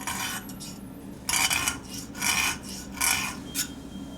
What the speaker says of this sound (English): You file it.